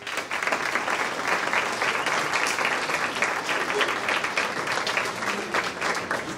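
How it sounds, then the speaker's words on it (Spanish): Steady, dense applause from an audience at a university tax-skills certificate event, sustained and fairly loud for several seconds without a break. "Recibámoslo con un fuerte aplauso."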